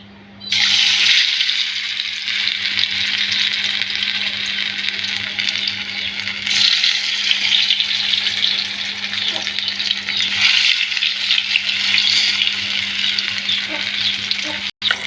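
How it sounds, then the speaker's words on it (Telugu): Meat pieces fry in oil in a kadai, a loud continuous sizzle and crackle that holds steady throughout with no talking. "చూసారా కలర్ఫుల్గా వేగిపోతున్నాయి ముక్కలు."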